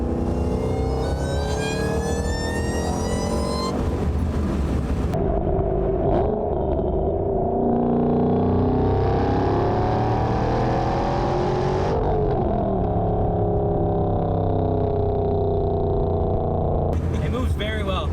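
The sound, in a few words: 726 hp GT500 car accelerating while driving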